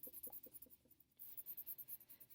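A red colored pencil scratches across paper in quick rhythmic strokes, close and crisp, with a brief pause midway before the shading resumes at a faster pace.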